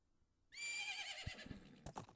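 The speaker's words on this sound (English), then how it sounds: "Isn't that your horse?" Epona, the horse in the video game Zelda Majora's Mask, lets out a loud, clear whinny that falls in pitch, followed by a few quick hoof clops and a short snort.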